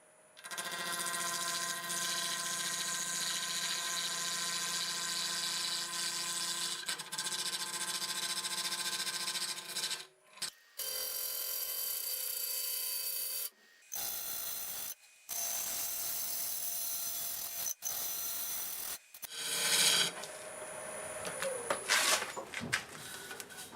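A wood lathe spins a segmented dovetail-joint bowl being turned round, with a loud steady motor whine and tool scraping against the wood, interrupted by several short stops and restarts.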